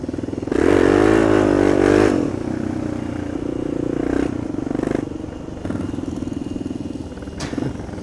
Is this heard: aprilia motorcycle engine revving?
yes